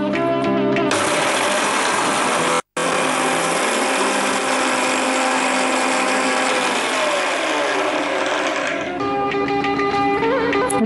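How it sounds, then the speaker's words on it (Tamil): Kitchen mixer grinding dried red chillies into powder: a loud, continuous high-pitched motor whir with rattling, briefly stopping once, then winding down near the end. "இப்போ நான் இதை பொடி பண்ணிடுறேன்."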